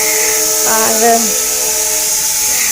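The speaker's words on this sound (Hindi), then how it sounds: "सॉरी सीटी की आवाज़ आ रही होगी, खाना बन रहा है" Pressure cooker whistle hissing steadily through the whole stretch while food cooks, loud and close, with a brief spoken word over it.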